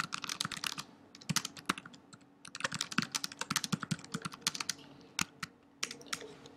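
Fast, uneven typing on a computer keyboard, a close run of crisp key clicks in quick bursts with brief pauses, heard alone without talking.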